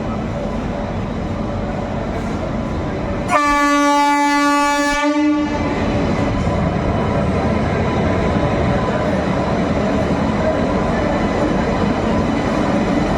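Amrit Bharat Express train running at Malda Town station, its horn blaring loudly for about two seconds over a steady close rumble of rolling wheels and carriages that continues after the horn stops.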